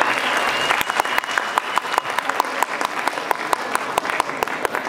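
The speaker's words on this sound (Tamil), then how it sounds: "அந்த டீமுக்கு நீங்கள் இன்னொரு தடவை கரகோஷம் கொடுக்கலாம்" Audience applause at a Pongal festival event for flood relief fundraising, a steady, loud wash of many hands clapping throughout, with a few sharper individual claps standing out.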